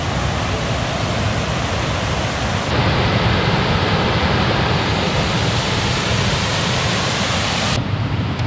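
Erawan Waterfall in Kanchanaburi, Thailand, pours in a constant, loud broadband roar of rushing and splashing water, steady throughout with no pauses and no voices.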